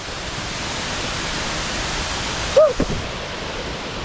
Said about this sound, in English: Somehow this waterfall has kind of scary feeling, but it's beautiful